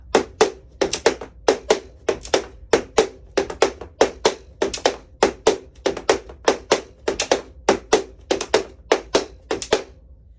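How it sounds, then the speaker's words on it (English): Rapid, steady tap dance footwork: crisp metallic taps in a repeating shuffle-hop-step pattern, close and clear, with no voices. "we'll do shuffle, hop, step, shuffle, hop, step"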